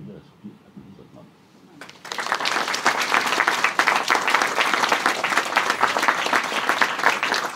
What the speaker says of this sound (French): je demanderais que tout le monde puisse vous applaudir et applaudir votre maman